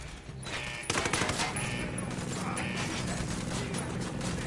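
Gunfire rattles out in Ghost Recon Wildlands, a loud burst of rapid shots that starts abruptly a second in and keeps going, with mechanical clatter and background game noise.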